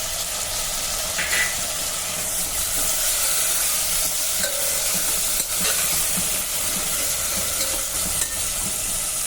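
A chopped tomato frying in a pan with onion, ginger and garlic for chole pulao, a steady loud sizzle with occasional scrapes of stirring throughout.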